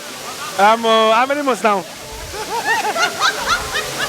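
Rushing water at Ezimo Waterfall forms a steady broadband wash beneath a conversation, with people talking over it throughout.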